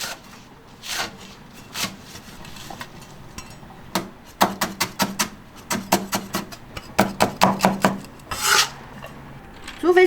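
A knife chops garlic sprouts into segments on a cutting board, a quick run of sharp knocks with some scraping. The strokes come in irregular bursts, several rapid cuts clustered together, close and fairly loud, with no talking.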